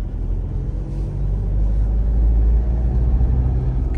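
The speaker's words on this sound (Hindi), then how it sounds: "और मतलब गाड़ी खींचने पे तो ऑब्वियसली आवाज है, बट वो आवाज अपने को अच्छी लगती है।" A Toyota Fortuner 4x4 with about 150,000 km on it, heard from inside while driving: a steady, loud low engine and road rumble that swells slightly as it pulls, with no talking.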